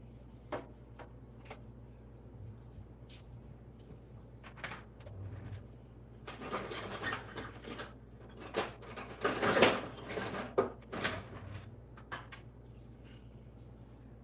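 Pots and a whisk clink and clatter in a home kitchen while a cheese sauce with Parmesan is made, with scattered light knocks at first that build into a busier, louder run of metallic rattling, close by and without speech.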